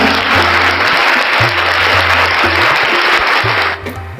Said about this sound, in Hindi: आप सभी का हमारे चैनल पर तालियों के साथ स्वागत है।